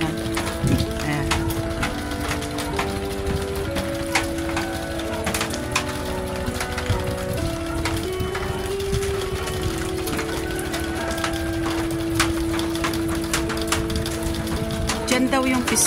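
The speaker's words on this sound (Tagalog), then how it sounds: "Ang naririnig mo lang, tak-tak-tak lang ng ulan." Steady rain patters across the countryside during the rainy season, a dense, continuous wash of drops with a faint tonal hum in the background and no clear voices.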